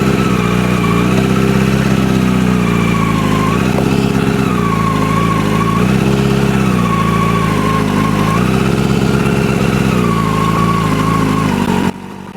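A motorcycle engine idles steadily and loudly up close while the clutch is worked, its low, even rumble rising and dipping in slight revs over several seconds before dropping off abruptly at the end.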